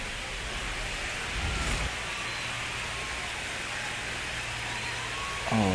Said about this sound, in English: Oh, it's raining the first game?